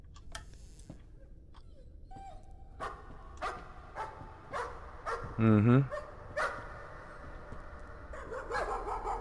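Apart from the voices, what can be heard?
ghost dogs barking in video game Layers of Fear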